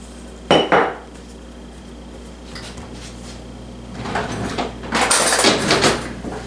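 A rolling pin works over pie dough for a pineapple pie on a hard kitchen surface, with a sharp knock, then rumbling rolls and clattering wooden contact, close and fairly loud.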